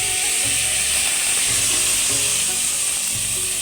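Broken wheat (dalia) fries in oil with cumin in a pan, giving a steady, loud, close sizzle with faint scraping of stirring underneath.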